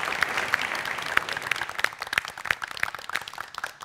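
Studio audience applauding on a Turkish family game show, a steady wash of clapping with a few sharper claps standing out, sustained throughout and moderately loud.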